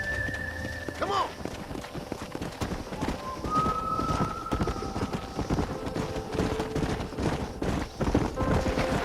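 Horse hooves clip-clop in a steady, rhythmic patter in the Red Dead Redemption video game, mixed with a neigh near the start and a few other game sounds.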